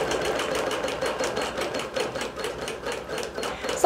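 A digital quilting machine stitching a large quilt with heavy 30-weight thread, running in a steady fast rhythmic chatter of needle strokes that holds at an even level throughout.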